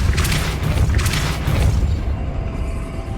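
Depulso spell cast in the video game Hogwarts Legacy, a loud rumbling magical boom with whooshing bursts and low, sustained resonance, no talk.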